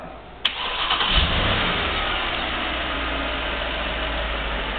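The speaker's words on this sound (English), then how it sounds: "Car will now start." A 2009 Mercedes-Benz GL550 engine cranks and fires up by remote start after a sharp click, then settles into a steady, close, loud idle with no talking.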